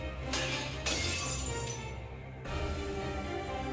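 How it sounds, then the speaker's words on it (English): A bright crash of a crystal glass barrier shattering, with crisp breaking bursts over a dense, rumbling background. "The crystalline barrier shatters under the deadly rain of so many weapons."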